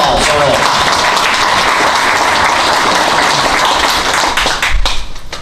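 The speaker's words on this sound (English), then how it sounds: "Round of applause." Applause from an audience at a talk on combating extremism in Seattle, dense steady clapping throughout, swelling slightly near the end.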